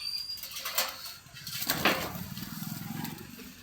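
A pigeon flaps its wings in flight in the dark, a rapid fluttering rush with a few sharp wingbeat bursts over steady background hum.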